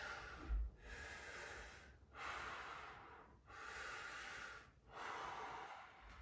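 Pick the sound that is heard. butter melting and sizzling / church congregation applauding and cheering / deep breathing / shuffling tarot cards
deep breathing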